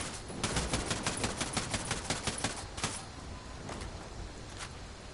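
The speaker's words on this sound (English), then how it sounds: "Fire your gun half empty and then reload." Ghost Recon Wildlands gunfire, a burst of rapid automatic shots that runs steadily for about three seconds, then thins to a few scattered shots over background game noise, with no talking.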